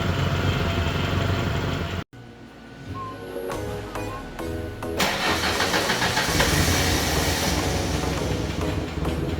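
Engine of a 1996 Ford Ranger under repair for freeze plugs, a loud steady rumble that briefly cuts out, then restarts and idles on with a rough continuous drone, close by, no speech.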